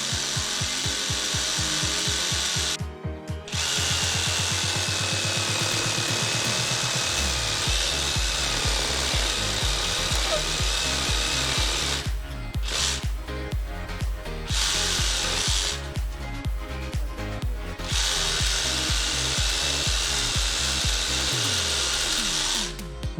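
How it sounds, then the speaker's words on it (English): A Ryobi one-handed reciprocating saw cuts through a tree branch outdoors, its motor buzzing with a rapid rasping stroke that stops briefly twice and restarts, loud and close, with no talk. "Here's literally the very first cut I made with this saw."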